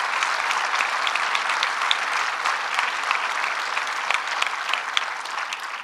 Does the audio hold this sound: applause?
yes